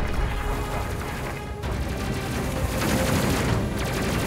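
Enemy ships fire missiles in the space game Space Crew, a continuous roar of overlapping blasts and rumbling explosions, loud and dense without a break.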